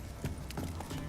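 Horse hooves clip-clop in The Witcher 3: Wild Hunt, a few soft, uneven knocks at low volume over a quiet background.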